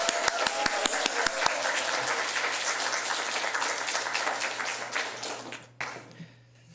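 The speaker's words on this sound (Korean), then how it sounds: "큰 환영의 박수로 환영하도록 하겠습니다" A church congregation at a Sunday worship service claps in welcome for a missionary: a few sharp claps first, then dense, sustained applause from a roomful of people that fades out toward the end.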